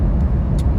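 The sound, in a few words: Jeep Gladiator driving and shifting into 8th gear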